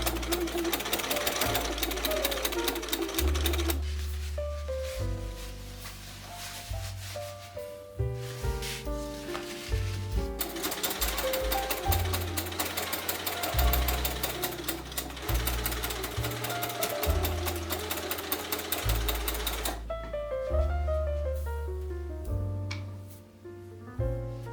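A sewing machine stitches bodice panels for a corset dress, running in rapid mechanical bursts that start and stop repeatedly over steady background music.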